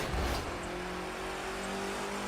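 Steady engine drone of a rallycross car in The Crew 2 racing game, a continuous revving hum with a brief louder surge at the start, no voices.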